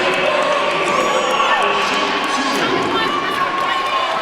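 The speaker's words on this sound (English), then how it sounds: "Sarcastic applause from the home crowd here." Home crowd at a Texas A&M versus Vanderbilt basketball game gives a sustained wash of scattered, half-hearted applause and murmuring, while a commentator talks over it throughout.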